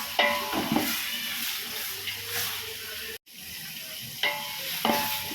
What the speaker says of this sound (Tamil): தக்காளி சேர்த்தாச்சு தக்காளி நல்லா வதங்கட்டும்